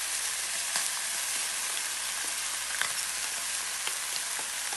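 Chicken and onion for chicken plov sizzle steadily in a hot pan, a dense continuous frying hiss with occasional faint pops and scrapes, close and fairly loud with no talking.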